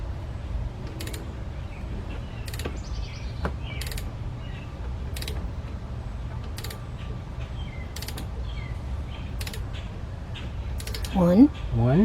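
Slow, repeated mechanical clicks and creaks as a Ford Fiesta engine's crankshaft is turned by hand, evenly spaced over a low background hum, with a voice briefly at the end.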